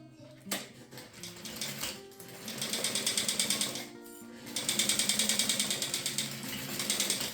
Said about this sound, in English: And then go ahead and sew.